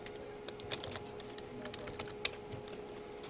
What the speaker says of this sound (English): So if you start typing